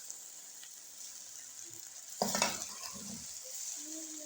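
Zarda rice sweetened and tinted with food colour is stirred in a pot, giving a brief burst of scraping and soft sizzling midway over a faint steady background hiss, with no talking.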